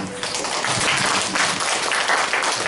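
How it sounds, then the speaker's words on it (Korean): A church gathering gives a missionary guest lecturer a round of applause, many hands clapping together in a dense, even burst that holds steady and close. "오늘 위기선교회에서 오셔서 오늘 강의를 해주신 우리 선교사님께 큰 박수 한번"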